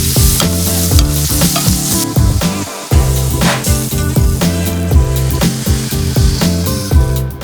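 Butter foams and sizzles loudly in a hot pan around a piece of seared meat, a steady crackling fry with stirring or basting clatter throughout, close up, with no talking.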